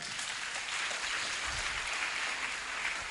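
A church congregation applauding and cheering during a French-language sermon, a steady dense wash of clapping heard from within the crowd, fairly faint and without talk.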